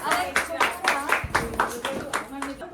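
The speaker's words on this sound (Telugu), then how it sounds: "clap clap" Hands clap in a quick, even rhythm of about nine sharp claps at a sixtieth-birthday celebration, close by, with voices talking over them.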